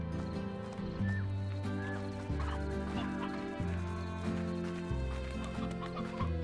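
Chickens clucking in the video game Slime Rancher, several short clucks over a looping musical background, moderately faint and mixed with other animal-like calls.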